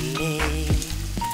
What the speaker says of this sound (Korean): 생선을 튀기는 소리만 들어도 군침이 돈다.